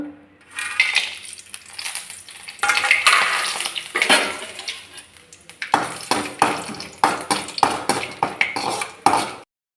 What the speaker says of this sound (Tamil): எண்ணெய் காஞ்சிருச்சு நம்ம வந்து அதில் பிரிஞ்சி இலை ரெண்டு ஏலக்காய் அப்புறம் வந்து நட்சத்திரப்பூ ரெண்டு பட்டை கிராம்பு எல்லாம் போட்டு நம்ம தாளிச்சிடலாம்